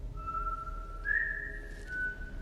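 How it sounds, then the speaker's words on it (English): A man whistles a steady sustained tune, one long note rising slightly in pitch and then held, alone and fairly close with a faint low rumble beneath. "So all he does is whistle."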